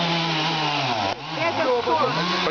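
A chainsaw cuts down trees in Gorky Park, Kharkiv, its engine whining loud and steady with a brief dip and then revving back up, while voices speak under it.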